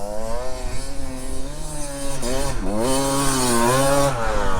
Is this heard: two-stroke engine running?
yes